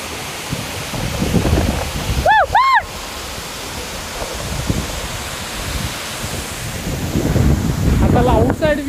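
Pittalaborra waterfall roaring as a steady broadband rush, blended with wind buffeting the microphone, with a brief whistle-like tone partway through.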